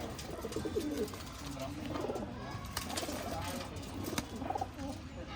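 Pigeons kept for sale in Bangalore coo in low, repeated, throaty phrases amid a busy loft with a constant bed of rustling and background noise.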